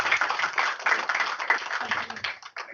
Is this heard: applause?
yes